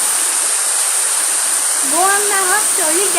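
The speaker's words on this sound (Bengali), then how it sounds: "প্রচণ্ড জোরে বৃষ্টি হচ্ছে" A steady, loud rushing roar of heavy rain and floodwater flowing like a river fills the scene, with a voice speaking briefly near the end.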